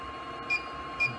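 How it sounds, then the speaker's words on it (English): A lab test machine's timer alarm gives two short, high electronic beeps about half a second apart, faint against a steady background hum. "as soon as the 15 minutes are up, the machine has a little alarm system and it will beep."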